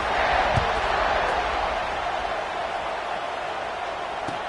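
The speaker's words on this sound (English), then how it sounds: "this crowd is buzzing after that last score" A college football stadium crowd at an FBS game keeps up a steady, dense roar after a score, broad and sustained across the whole stretch with a few faint thuds.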